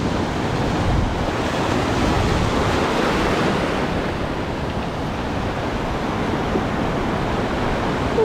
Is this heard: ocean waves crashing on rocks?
yes